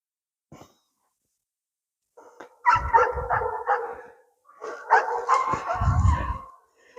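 German shorthaired pointer barking during e-collar training, a few sharp close barks in two quick clusters after a brief faint sound, with silence between bursts.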